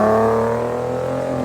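Infiniti Q50 with the VQ 3.7 engine and a custom exhaust revs loudly and close up, a strong steady drone that slowly eases down in pitch and volume over a second and a half, with no voices.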